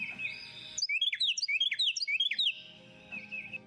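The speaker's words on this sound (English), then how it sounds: "That's very high pitch. That one makes my ears hurt." A small bird's very high-pitched song plays from a recording: a rapid series of sharp, piercing chirps and trills, preceded and followed by a sustained thin whistle-like tone, loud and close with no talking.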